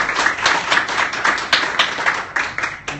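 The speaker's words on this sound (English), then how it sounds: "I think that deserves a round of applause." Small audience at a showcase and pitch night clapping, sparse uneven claps from a few hands, near and fairly loud, tapering off toward the end.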